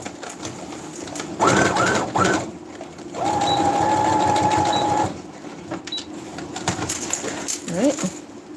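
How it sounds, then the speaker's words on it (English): A sewing machine runs a tighter stitch over a purse, in a few short bursts and then one steady run of about two seconds. Other short clatters come between the runs. It sounds close and moderately loud, with no talking. "I'm just going to go over the whole thing while I got it out and I have access to it with a tighter stitch."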